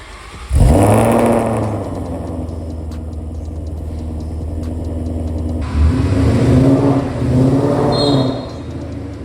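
A turbocharged car on a test drive accelerates hard, its engine roaring up through the revs. The drone is loud and close inside the cabin, with a gear change midway before it pulls again.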